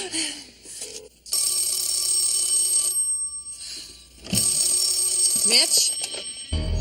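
Office telephone ringing in bursts, a loud electronic trill that sounds, pauses for about a second, then rings again.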